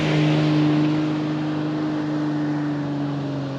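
Range Rover Sport L320 V6 with a Magnaflow exhaust revving, a loud, steady, deep drone that swells at the start and then holds with slight sag, no voices.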